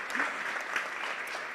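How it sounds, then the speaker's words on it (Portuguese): Church congregation applauding during a Sunday celebration service, a faint, steady spatter of hands with a voice speaking over it. "aplaudir ao Senhor, né, e a elas pelo excelente trabalho"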